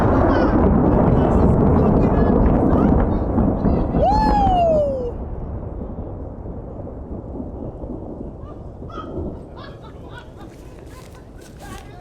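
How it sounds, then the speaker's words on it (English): Loud thunder rumbles through a lightning storm on mountain shelf roads, rolling for several seconds before easing to a lower grumble, with people talking over it near a Jeep at a campsite. "We're most definitely in a lightning storm."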